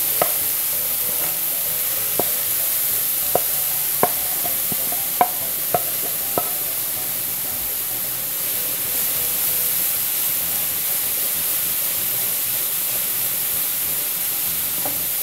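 Grated carrots frying in ghee for Bengali gajor halwa give a steady, close sizzling hiss, broken by a few sharp scrapes and taps of stirring in the first seven seconds, then settling into continuous even frying.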